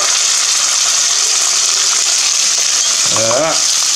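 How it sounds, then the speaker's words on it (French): Pieces of cuttlefish hit hot oil in a pan and set off a loud, constant sizzling hiss close up, with a brief stirring scrape near the end. "mon huile, elle commence à chauffer. Donc là, on y verse nos sèches."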